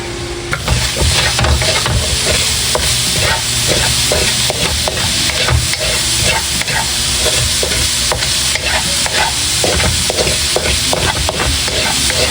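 Meat sizzles loudly in a pan for creamy spaghetti, with constant frying hiss and repeated scraping stirs of a utensil against the pan.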